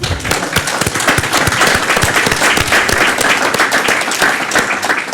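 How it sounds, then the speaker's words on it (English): Loud, dense applause from an audience at an evening public-safety event in Boston, with many crisp overlapping claps carrying steadily throughout without talk. "So give yourselves a round of applause."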